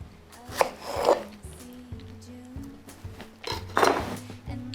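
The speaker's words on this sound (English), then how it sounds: "So I'll just cut a few slices." A knife cutting slices of strawberry loaf with cream cheese glaze, a few close cutting strokes that tap against a board or plate, with a low steady background hum and no speech.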